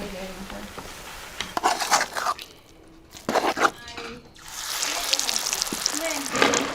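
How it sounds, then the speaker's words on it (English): Bajia batter made with chilies, onions and coriander fries in hot oil at an Ethiopian street food stall in Hararghe. Bursts of crackling sizzle come and go under steady talking, with occasional clinks of utensils. "now she's frying them into little shapes"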